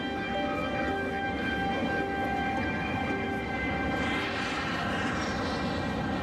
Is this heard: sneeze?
no